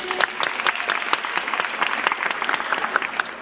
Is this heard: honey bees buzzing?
no